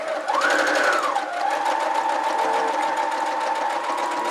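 A sewing machine stitches a fabric face mask in a steady, close, continuous run with a pitch sweep near the start, then an even hum alone.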